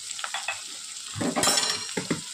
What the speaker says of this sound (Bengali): তো চলুন খুব ভালো করে আলুগুলো ভেজে নিয়ে আসছি।